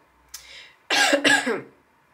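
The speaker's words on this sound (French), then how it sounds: "Alors je tousse" A short throat-clearing sound followed by a louder, close double cough, then quiet.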